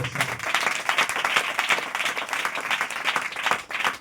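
A church congregation breaks into dense, sustained applause, many hands clapping together at close range and holding steady for the full stretch with no pause.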